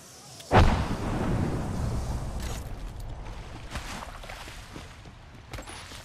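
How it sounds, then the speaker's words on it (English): Grenade explosion in Apex Legends, a single loud blast with a sharp onset that fades into a long rumbling tail, followed by faint game clatter. "Grenade out."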